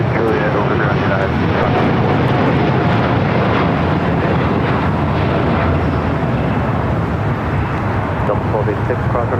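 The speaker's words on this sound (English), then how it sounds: "Latam Airline 603 taking off to Santiago, Chile on a 787-9 Dreamliner" A LATAM Boeing 787-9 Dreamliner takes off from LAX, its engines producing a loud, continuous, broadband roar that holds steady throughout.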